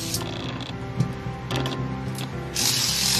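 A Hyper Infinity yoyo with a defective bearing spins with a loud, continuous metallic grinding and rattling, close up, the noise swelling and growing harsher toward the end with no voices.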